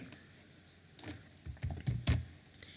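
Java code is typed on a computer keyboard in a quiet room, a handful of close, irregular key clicks and taps in short bursts.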